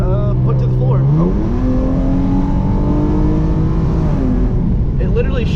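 Hyundai Genesis Coupe 3.8 accelerating hard at full throttle, engine note climbing steadily in pitch after a brief kick-down, loud and close with continuous road and intake roar throughout.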